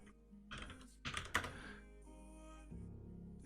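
Sharp, quiet clicks from a hot-swappable two-key aluminum micro pad, the XD002, come in a short irregular burst of a few keystrokes, close and crisp against near silence.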